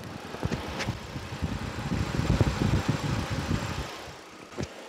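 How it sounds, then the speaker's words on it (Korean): A Ford Explorer 3.5 Limited 4WD with a 3500cc gasoline engine idles close to the open engine bay, a quiet, smooth low rumble with soft pulsing and a faint ticking layer, no talk. "바로 엔진 소리 한번 들려 드릴게요."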